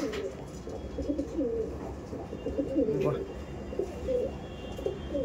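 Several pigeons of a Kalshira-type breed coo steadily and overlap one another in low, warbling calls that carry through the whole stretch. Some faint background noise sits beneath them.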